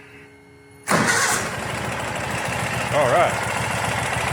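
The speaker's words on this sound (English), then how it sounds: "let's see what happens when we crank it" A 2017 vehicle's engine cranks and fires after a fuel system drain and prime, catching abruptly after a quiet moment and settling into a steady idle, with someone speaking briefly over it.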